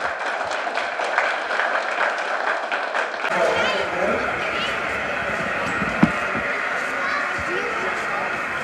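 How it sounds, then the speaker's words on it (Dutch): Outdoor crowd applause at a fire brigade open day in Baarn, steady clapping that continues for several seconds under a voice, with a brief sharp knock midway. "En dat vind ik in ieder geval een applaus waard voor alle brandweermannen hier in Baar."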